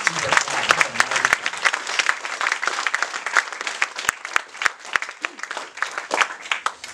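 Church congregation applauding at a sermon service, dense sustained clapping with a crowd murmur underneath and a few louder sharp claps standing out.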